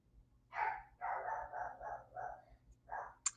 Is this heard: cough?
no